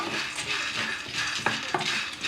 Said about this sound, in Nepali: सबभन्दा पहिले भट्ट भुट्नुपर्छ मजाले।